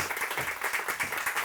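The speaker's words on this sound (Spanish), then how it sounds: "Un aplauso para Marco," Brief, fairly soft applause from a seated audience at a lecture event, a patter of clapping lasting about a second and a half.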